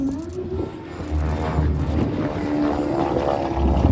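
A vintage twin-engine propeller airplane with two 450-horsepower engines runs at an air show, a loud sustained engine drone with steady prop hum that swells slightly toward the end.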